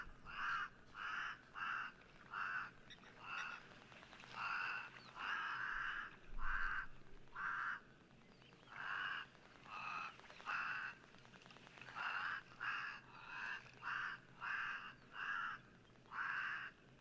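Crows cawing repeatedly in a steady series of harsh calls, fairly close and loud outdoors, with short gaps between bursts and no talking.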